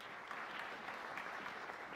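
Steady audience applause greets a speaker at a philosophy of science panel, many hands clapping in a continuous, moderately distant wash that never breaks, with no voices over it.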